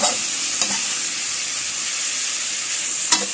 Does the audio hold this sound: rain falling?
no